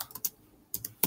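Several quick keystrokes clatter on a computer keyboard in short bursts with a pause between, close and fairly crisp, with no voices.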